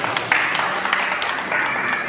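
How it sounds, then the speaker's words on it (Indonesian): An audience applauds at a community testimonial gathering held by an NU Care LAZISNU charity group in Widang, Tuban. The clapping is a dense, steady wash lasting about two seconds, with a noisy crowd undertone mixed in. "Tepuk tangan untuk Gus Masrul."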